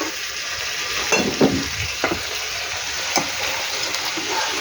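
Fried fish-head masala stirred into mung dal with a soft, wet sizzle and a few scraping spoon strokes against the pot, close and moderately loud.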